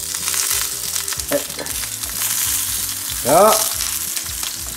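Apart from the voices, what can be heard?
zucchini sizzling in a pan as they are turned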